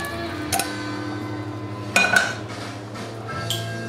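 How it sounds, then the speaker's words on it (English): Soup of caramelized onions and bouillon stirred in a pot for French onion soup: a steady low hum with a few sharp metallic clinks of a utensil against the pot, spaced well apart. "Stir it up really good."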